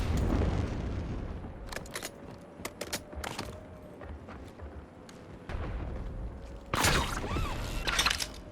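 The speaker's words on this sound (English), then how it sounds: "Throwing Molotov." A Molotov cocktail is thrown and bursts in a shooter video game, with a run of sharp cracks and thuds and a louder, fuller burst of shattering near the end.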